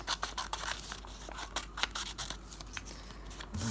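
Scissors snip out a paper shape in a run of crisp, quick cuts with short pauses between them, close and fairly quiet, with no voices.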